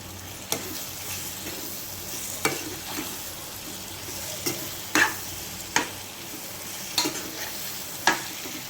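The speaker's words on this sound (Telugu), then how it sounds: "టమాటా యాడ్ చేసుకొని మంచిగా నీట్గా కలుపుకోవాలండి" Three large chopped tomatoes being stirred into a pan for brinjal curry, with a steady sizzle of frying under repeated sharp scrapes of a spoon against the pan at irregular intervals, close and fairly quiet.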